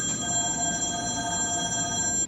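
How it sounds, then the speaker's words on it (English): A landline and a cell phone ring together, a loud, steady electronic trill holding for about two seconds before cutting off. "Usually when the two phones ring like that"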